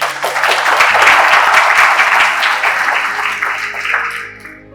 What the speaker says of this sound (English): So huge round of applause for them.